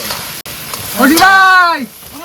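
Fish frying in hot oil sizzles softly throughout an outdoor cookout, while a loud drawn-out voice briefly rises over it in the middle.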